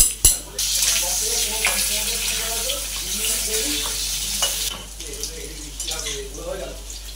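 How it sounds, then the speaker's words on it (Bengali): Soybean chunks frying in a pan for a soyabean egg curry, a steady sizzle running throughout with a sharp clatter at the start and voices murmuring over the cooking. "এবারে সয়াবিনটা ভাজবো, ভেজে এই সয়াবিনে দেবো"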